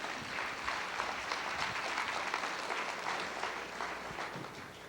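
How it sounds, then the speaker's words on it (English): A studio audience at a 1989 variety show breaks into sustained applause, a dense, even wash of many hands clapping heard from a short distance, without any talking over it. "Won't you give him a nice round of applause?"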